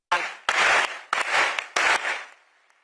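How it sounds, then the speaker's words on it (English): Four short, sharp bursts of clapping follow a performance at an Africa Energy Week gathering, each loud burst quickly decaying, with brief gaps of silence between them. "Please, ladies and gentlemen, round of applause."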